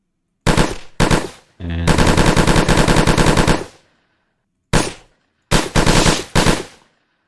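Automatic rifle fire in a modded video game with ballistic blood-splatter effects: short loud bursts, then a sustained stream of rapid shots, a pause, and three more bursts, near and dominant.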